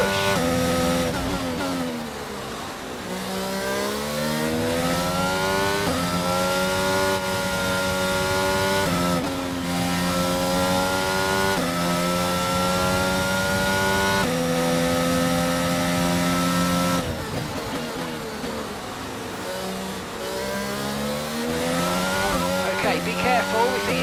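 F1 car engine in the F1 22 racing game, a continuous high-pitched whine rising and falling through the gears as the car pushes hard, steady and loud throughout with a brief lift near the middle.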